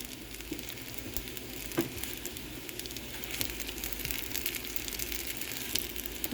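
Jalapeno burgers sizzling and frying in a pan, a steady broadband crackle and hiss with scattered pops, close and moderately loud without any talking.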